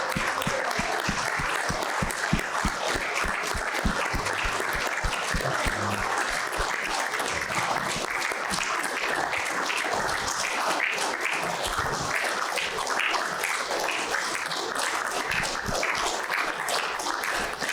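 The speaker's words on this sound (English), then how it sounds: "I just think we all need to give a big round of applause to our honored, amazing guest." An audience at a live show gives a guest a long round of applause, dense sustained clapping with individual claps standing out at first, loud and steady without talk.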